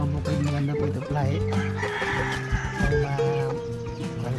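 Young Shamo rooster stags crow and cluck close by in a backyard, giving loud drawn-out calls and short clucks that overlap with a voice speaking.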